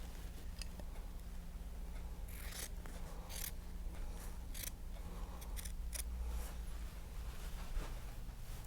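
Scissors cut a second miter in quilt fabric, giving a run of crisp snips, some spaced and some in quick pairs, close and clear over a low steady background hum.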